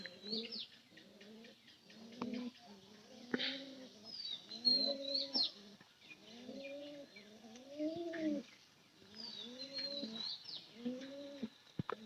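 Pigeons in a loft coo repeatedly in soft, rolling phrases, several birds overlapping close by with occasional faint chirps in between, fairly quiet and without speech.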